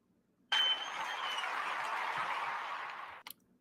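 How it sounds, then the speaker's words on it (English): Canned applause sound effect played during a TEDx stream, a sudden loud burst of stadium-sized clapping and cheering that holds steady for under three seconds before cutting off abruptly. "that was some of the worst canned applause I've ever seen"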